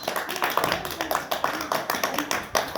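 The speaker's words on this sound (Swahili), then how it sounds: "Tuwapigie makofi" Clapping for two quiz winners at a classroom quiz, a loose run of hand claps from a small group, fairly near and steady throughout.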